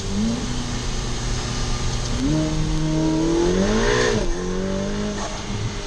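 A 2023 Ferrari F8 Spider sports car accelerating hard, its engine note climbing loudly and continuously through rising, sweeping pitch changes, with a brief squeal of tyres as the rear steps out.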